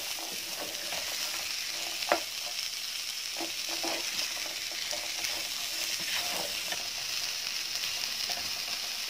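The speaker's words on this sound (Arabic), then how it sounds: "هنزل بيهم بقى على الخضار بتاعي واقلبه برده كويس قوي" Vegetables with bay leaves and cardamom being stirred in a hot pan, a steady close sizzle with a few sharp scrapes and clacks of the spoon, no talking.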